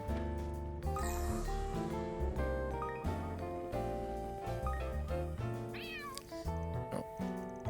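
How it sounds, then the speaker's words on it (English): A little gray cat meowing in the game Trails Through Daybreak II, two or three plaintive mews heard over a busy background music track. "isn't this little gray cat the same one from Old Town? It kind of sounds like she's got the blues."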